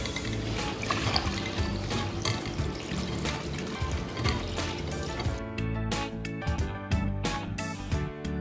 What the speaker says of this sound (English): Wash the ginger.